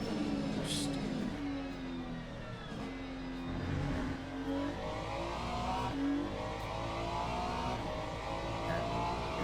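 A GT3 race car in Le Mans Ultimate revs and pulls through gears, engine tone rising and falling in steady sweeps, loud and continuous with no speech.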